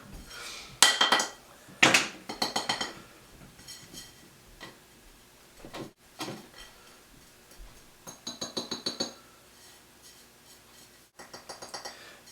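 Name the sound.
garlic powder tipped into a small glass mason jar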